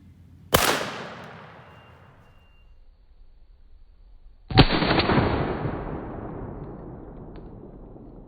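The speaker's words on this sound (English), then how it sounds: "we're going to be shooting the heavy shot choke tube with the Remington turkey load" A shotgun with a heavy shot choke tube fires Remington turkey loads at a 20-yard pattern target: two loud, sharp blasts about four seconds apart, each trailing off in a long echoing decay.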